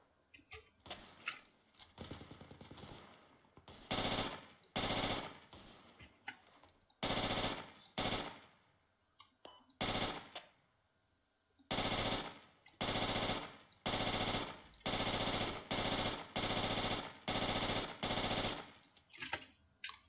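Machine gun fire in the video game Project Reality comes in loud, repeated bursts of rapid shots, separated by short pauses, with faint background noise.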